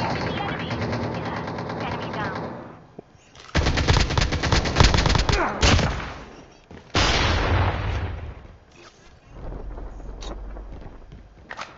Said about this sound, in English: Guys, I hear guns.